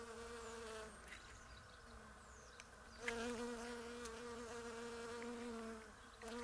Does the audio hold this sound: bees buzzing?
yes